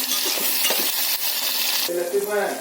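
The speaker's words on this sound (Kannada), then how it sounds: "ಸರಿಯಾಗಿ ಫ್ರೈ ಮಾಡ್ತಾರೆ ಎಣ್ಣೆಯಲ್ಲಿ" Tomatoes fry in hot oil for an anda (egg) curry, giving a steady broadband sizzle with a few utensil scrapes, and the sizzle turns brighter and crackly near the end.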